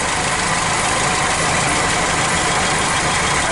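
A 1965 Citroen DS 19 Pallas engine idles steadily at close range with its pulley turning, a dense, even, loud mechanical whir without pauses or voices.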